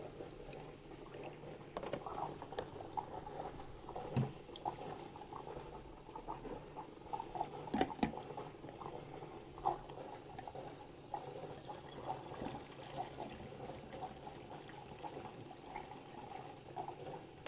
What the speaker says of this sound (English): just pouring in the stabilizer